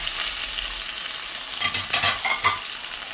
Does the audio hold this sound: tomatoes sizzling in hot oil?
yes